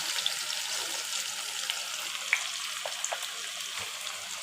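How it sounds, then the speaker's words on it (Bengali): Sliced onions going into a pan with dried loitta fish give a steady, moderate sizzle with faint crackles and a few light stirring clicks, continuous throughout with no talking. "এখন দিয়ে দিলাম বেশ কিছুটা কোচানো পেঁয়াজ।"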